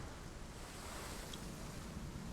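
Ocean waves in the video game Hellblade: Senua's Sacrifice, a steady, quiet wash of surf with wind-like noise rolling on without a break.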